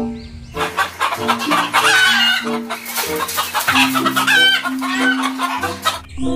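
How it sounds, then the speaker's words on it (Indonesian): A chicken clucks and crows loudly over a busy, bright background, with repeated squawking calls close at hand. "Ini ayam teman-teman"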